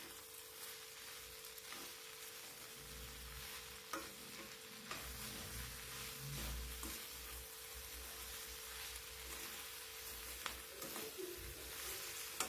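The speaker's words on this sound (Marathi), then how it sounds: "मीठ टाकून झाल्याच्या नंतर परत एकदा भाजी आपल्याला छान मिक्स करून घ्यायची।" Okra stir-fry with salt being stirred in a pan: a steady close sizzle with soft scraping strokes and occasional light knocks of the spoon, no voices.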